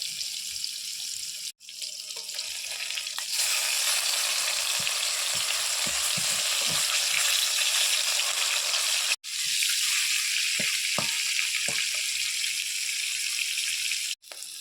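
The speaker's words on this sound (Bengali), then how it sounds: "মাছগুলো ভাজা হয়ে গেছে এবার তুলে নেব" Fish frying in hot oil in a home kitchen, a steady broadband sizzle that holds for most of the stretch, with brief breaks and a few soft clinks and stirring knocks near the pan, no talk.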